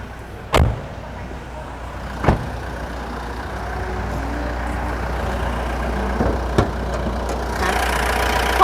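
A Mitsubishi Triton diesel pickup engine idles with a steady, low, even rumble, punctuated by a few sharp knocks or clunks nearby, with the hum holding level from start to end.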